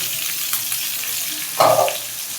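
Garlic, onion and green chili stir-frying in a pan. A steady soft sizzle runs throughout, and a brief clatter of stirring comes near the end.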